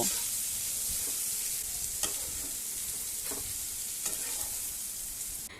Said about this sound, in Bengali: পেঁয়াজটা আমি একটু বাদামি রং ধরা পর্যন্ত ভাজবো